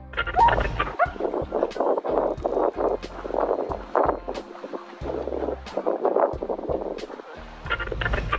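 Two dogs barking in quick, repeated bursts outdoors beside a lake, loud and close, with wind buffeting the microphone throughout.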